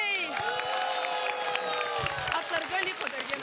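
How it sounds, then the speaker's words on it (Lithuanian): Audience claps and cheers under loud, lively voices at a children's television show, with excited talk and shouting riding on top of the crowd noise. "bet audringi plojimai"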